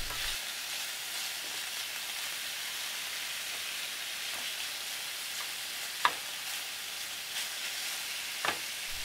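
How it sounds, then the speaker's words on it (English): Ground beef browning in a pan on a camp stove, a steady soft sizzle and crackle throughout, with a few faint clinks of stirring. "First, I'm just browning some ground beef."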